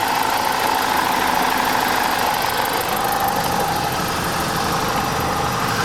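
A 2004 BMW 318i engine idles, giving a steady, close mechanical hum with a faint even ticking, and the pitch drops slightly as the idle settles.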